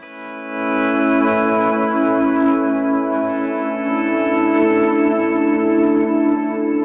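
Electric guitar drenched in big reverb and delay produces a sustained, swirling wash of chords, loud and even throughout, with no talking.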